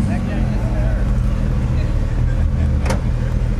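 A Ford GT rolls along a road with its front raised for speed bumps, a steady low engine rumble running throughout beneath people talking nearby.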